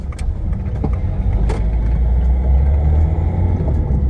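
Low, steady rumble of a car engine and road noise from inside a moving vehicle, with occasional faint clicks and rattles.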